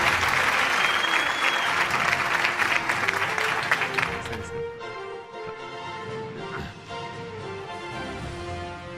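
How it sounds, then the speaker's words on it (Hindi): Loud, dense clapping from a large audience at an award show, sustained for several seconds before tapering off and blending into lighter crowd noise. "बुखारी साहब के लिए भरपूर तालियां होनी चाहिए"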